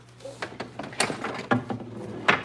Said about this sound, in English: I got to open the door.